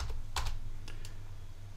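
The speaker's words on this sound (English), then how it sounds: "So I'll just type in" Several quick keystrokes on a computer keyboard, clicking in a short irregular burst and then trailing off, close and fairly quiet with no talking.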